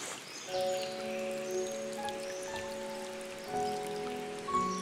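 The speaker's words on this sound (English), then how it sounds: "It appears that there is a pause in the rain. Only a few drops now fall from the leaves." Scattered raindrops fall from leaves in a tropical rainforest during a pause in the rain, soft irregular drips over a steady humid background hum.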